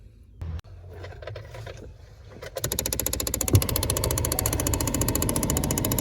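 A factory actuator with a slipped gear makes a rapid, steady clicking that starts partway through and keeps going loud and close, after a quieter stretch of scattered handling noises.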